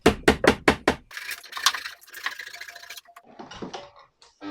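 Wooden plugs are hammered into glued holes in reclaimed scaffold board while a mud bench is built: five quick, sharp hammer blows at the start, then quieter workshop clatter and handling sounds.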